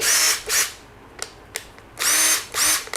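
A TEH 120 Nm cordless impact driver whirs loudly in two short bursts, pauses with a couple of clicks, then whirs again in two more bursts, close by.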